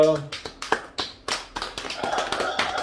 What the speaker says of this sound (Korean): 우리 하나님께 영광의 박수 돌리시겠습니다.